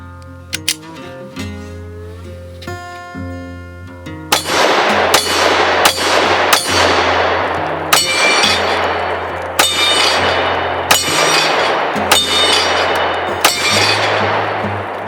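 A Ronin 10mm pistol fires Gold Dot rounds at steel targets in a steady string of sharp shots, each followed by a ringing metallic clang, with background music playing underneath.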